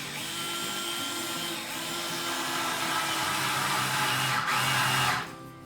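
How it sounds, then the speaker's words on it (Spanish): Power drill driving a screw into a piece of wood while building a DIY wooden raised planting table, a steady continuous whirring motor close up for about five seconds, then cutting off at the end. "Primero vamos a poner un poco el tornillo hacia adentro."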